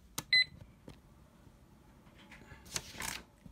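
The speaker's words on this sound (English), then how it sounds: "When you turn on the slide switch, you hear a beep, which signals that you may record." A Snap Circuits recording module (model CM-200) gives a short, clear electronic beep as its slide switch is turned on, followed by faint clicks and rustling handling noises in a quiet room.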